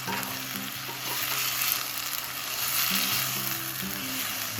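Tomatoes with a teaspoon of salt sauté in a pan for Chettinad chicken curry, a steady close sizzle and frying hiss with occasional stirring scrapes, with no talk.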